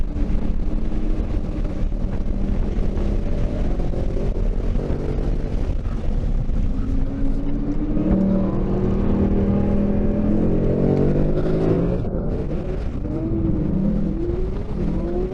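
A 2019 Ford Mustang GT lapping a track, its V8 a loud, sustained drone that climbs and falls through gear changes, with heavy wind rush over the cabin and no talking.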